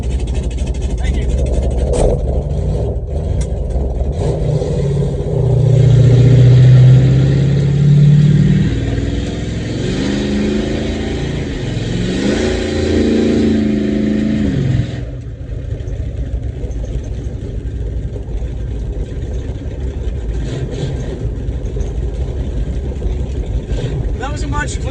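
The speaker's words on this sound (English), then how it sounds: "Obviously, I'm hitting the rev limiter." Big block V8 in a 1968 Ford Thunderbird roars loudly through a drag strip pass, engine held high against the rev limiter before cutting off abruptly to a lower idle-like drone.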